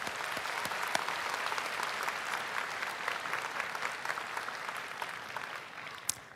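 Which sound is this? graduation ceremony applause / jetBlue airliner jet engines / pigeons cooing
graduation ceremony applause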